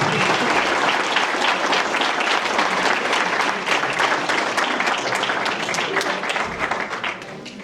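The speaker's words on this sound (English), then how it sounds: "All right, Mr. Porsche, round of applause." A round of applause for a candidate at a city council and mayoral candidate forum: sustained, loud clapping from an audience, steady throughout and tapering slightly near the end.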